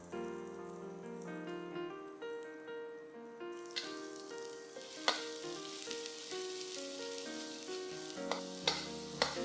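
Fresh and dried red chili paste fries for rempah, a continuous hissing sizzle with occasional spatter pops, heard close under steady background music, with no speech.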